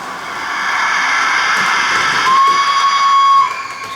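A Hornby TTS Tornado model steam locomotive sounds its whistle, a sustained shrill tone with a hiss lasting about three seconds, close and fairly loud before cutting off.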